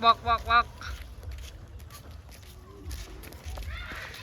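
Ducks on a countryside road let out three quick, loud quacks at the start, followed by people talking and scuffing footsteps, with fainter bird calls near the end.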